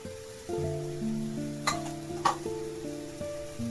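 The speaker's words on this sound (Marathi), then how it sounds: "आपण मसाला आपण चांगला भाजून घेऊया मस्त मसाला भाजत आला" Masala spices roasting in a pan with a soft sizzle and two sharp scraping stirs, set against a steady low tonal hum.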